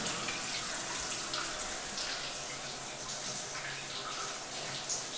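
Shower water runs steadily while a dog is bathed, a close, continuous hiss and splash of spray with no pauses.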